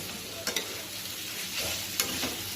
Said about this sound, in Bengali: পেঁয়াজ, রসুন, ক্যাপসিকাম, গাজরটাকে ভালো করে বাটার আর সাদা তেল দিয়ে একটু নুন দিয়ে ভাজছি